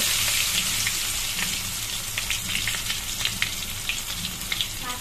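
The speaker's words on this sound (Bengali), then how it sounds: "এবার পটলগুলো আমি ভেজে দেবো।" Whole pointed gourds (potol) frying in hot oil, a continuous close hiss of sizzling with sharp crackles and spits scattered throughout, no talking.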